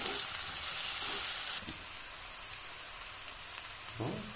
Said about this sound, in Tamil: இப்போ ஆனியன் சேர்க்குறோம், வெங்காயம் கொஞ்சம் ப்ரௌன் ஆகிற வரைக்கும் வதக்கணும்